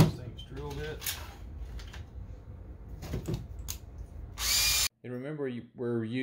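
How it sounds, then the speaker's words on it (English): A power drill with a 3/16 bit boring through Lite Ply using MDF as a guide, heard as short whirring bursts with pauses between, fairly close, and someone talking near the end. "we're using the MDF as a drill guide here, so make sure that we're not wallowing out the holes in the MDF as we're drilling through the Lite Ply"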